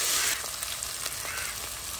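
Onion and tomato frying in oil in a pan for a Goan kingfish curry: a steady, soft hiss of sizzling that holds evenly throughout, with no voices.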